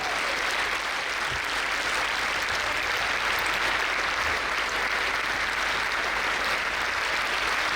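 Sustained audience applause at a Diksha Mahotsav ceremony in Bangalore, a dense, steady wash of many hands clapping at even loudness throughout, with no voices standing out.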